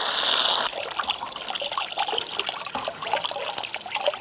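Running water trickles and splashes steadily from a tap as dirty eggs are rinsed by hand, close and fairly loud throughout.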